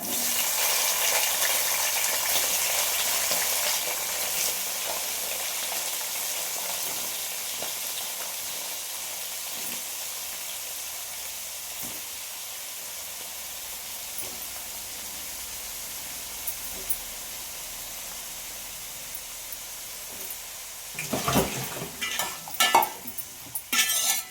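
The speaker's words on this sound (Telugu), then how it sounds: "ఇంకా తాలింపు అంతా వేగిపోయాక ఇంకా దాంట్లో ఫస్ట్ వంకాయలు వేసేస్తున్నాను" Eggplant pieces frying in hot tempering oil, a steady close hiss of sizzling that continues throughout and ends with a few louder scrapes and stirs near the close.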